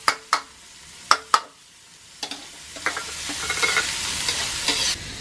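Chopped onions and leek stir-fried in a hot pan: a few sharp spatula clacks against the metal, then a steady sizzle that builds and grows louder.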